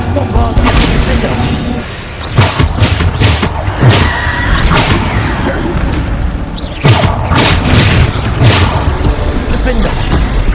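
Bombarda spell blasts go off in Hogwarts Legacy as loud, repeated explosive bursts in two clustered volleys over rumbling combat noise, with shouted voices in between.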